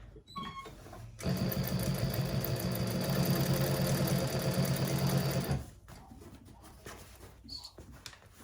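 A sewing machine stitches a handbag lining seam along the bottom, running steadily for about four seconds after a brief start, loud and close, with quieter handling noises afterward and no talk.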